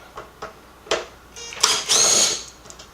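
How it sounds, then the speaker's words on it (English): A cordless impact wrench backs out T20 screws from a Porsche 996 Turbo sub-woofer emblem panel, giving several short bursts of buzzing rattle, the last and longest near the end, each close and moderately loud, with no talking. "impact wrench"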